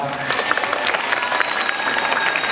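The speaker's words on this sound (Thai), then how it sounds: "ขอเสียงปรบมือให้กับ Voice Trainer" A crowd claps steadily and continuously, a dense wash of applause with faint cheering mixed in.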